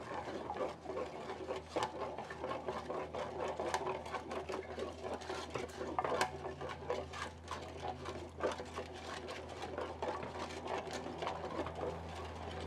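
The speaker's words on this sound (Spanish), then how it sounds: "Ahora le voy a poner molinillo para hacerlo." A wooden molinillo is spun by hand in a pot of hot chocolate, giving a steady, fast whirring rattle that runs unbroken and fairly close, with no one talking.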